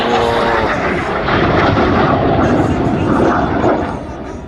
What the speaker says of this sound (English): Passing with only 30 feet between aircraft, red 6 and 7 now turned hard towards the display line.